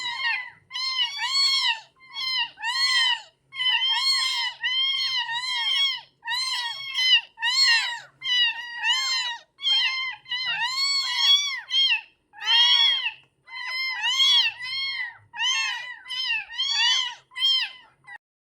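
Kittens about three weeks old meow insistently for milk, several high, plaintive cries overlapping in quick succession, loud and close with no other sounds.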